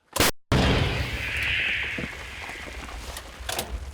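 A single loud artillery gun blast booms at the start from a Ukrainian army firing position, followed by a long rumbling echo and a hissing wash that slowly fades.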